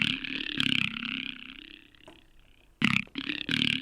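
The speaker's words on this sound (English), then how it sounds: "So I've added the auto filter with its new vowel sound." A synth drone passes through Ableton Auto Filter's vowel shape with LFO modulation, giving a throaty, talking, belch-like tone that shifts in bursts and pauses, close and fairly loud.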